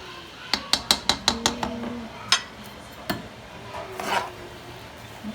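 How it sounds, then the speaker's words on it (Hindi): A spoon clinks rhythmically against a bowl while mayonnaise, sour cream and sugar are mixed: a quick run of about eight sharp taps, then a few scattered knocks and soft scraping, fairly quiet and close. "थोड़ी सी शुगर डालेंगे और इसको मिक्स कर लेते हैं"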